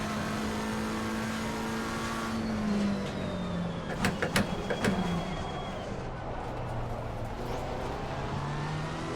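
A race car in a sim racing game slows under braking into a corner, its engine tone sliding downward over a steady drone, with a few sharp clicks midway and no talk.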